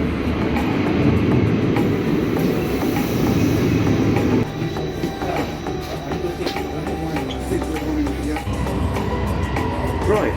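Train rolling along rails, a steady loud rumble with rhythmic clatter and rattling carriage noise, easing slightly partway through; no talking.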